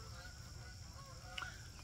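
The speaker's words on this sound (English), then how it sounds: "we got some of the geese going through, that's pretty cool" Geese honking as they pass overhead, a few faint distant calls rising briefly over a steady low background hum.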